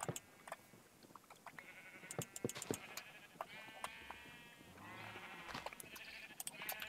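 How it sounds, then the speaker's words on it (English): Sheep bleat repeatedly on a crowded video game farm, the short calls overlapping and scattered throughout, fairly quiet with no talk. "The sheep are a little crowded"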